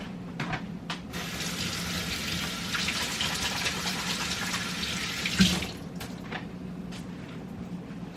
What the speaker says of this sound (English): I will wash them again